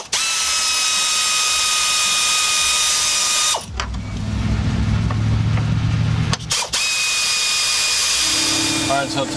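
Power tool removing 10mm bolts from a Toyota 5VZ-FE V6 engine, with loud steady high-pitched whirring bursts broken by a short low rattling run in the middle, close up and with no talk.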